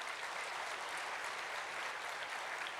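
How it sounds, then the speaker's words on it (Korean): A church congregation claps steadily to welcome visiting guests, a dense, even wash of applause filling the room for a few seconds with no voices over it. "박수로 환영하도록 하겠습니다."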